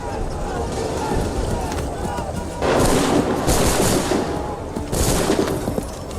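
Musket volleys fired by a line of soldiers in Assassin's Creed III, two loud broadband bursts crackling out over a steady background of battle noise and shouted orders.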